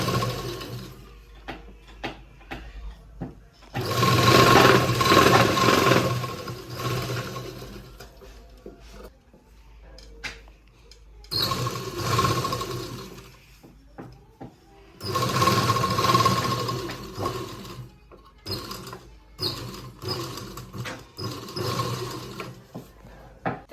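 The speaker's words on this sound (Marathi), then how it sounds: "सर्वात अगोदर ला पलटून व्यवस्थित शिलाई मारून घ्यावी लागेल" A sewing machine stitches fabric for a hand-painted bag in three or four close, loud runs of rapid mechanical clatter. Between the runs come quiet pauses with small clicks and handling sounds, and no one speaks.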